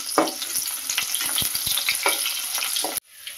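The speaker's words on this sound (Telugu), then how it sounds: "జీలకర్ర ఆవాలు వేసుకున్న తర్వాత అందులో చిన్న చిన్న ముక్కలుగా కట్ చేసి పెట్టుకున్న ఆనియన్స్ వేసుకొని వేయించుకుందాం." Chopped onions fry loudly in a pan with cumin and mustard seeds, a steady dense sizzle broken by irregular stirring knocks, cutting off abruptly near the end to a quiet hush.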